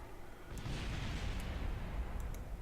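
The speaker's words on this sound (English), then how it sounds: "That's going to make a nice explosion." A rocket exploding in the video game Kerbal Space Program, heard as a sustained, rumbling blast with heavy low-end roar and scattered crackling pops that swell after the first half second and hold steady to the end.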